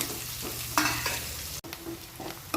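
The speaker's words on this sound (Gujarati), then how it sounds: "થોડી વાર ડુંગળીને સાતળી દઈશું." Onions sauté in a pan for masala rice, a moderate close sizzle with a couple of distinct stirring scrapes and a brief dropout midway, no talking.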